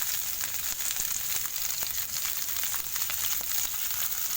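Onion and garlic frying in a pan, giving a steady crackling sizzle with scattered sharp pops, close and constant throughout with no voices.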